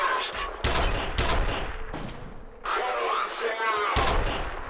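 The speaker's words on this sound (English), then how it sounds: "This is how you throw a grenade." Grenade blasts and gunfire in the first-person shooter F.E.A.R., several loud sharp bangs followed by rumbling roar and a final heavy explosion, close and dominant over faint background.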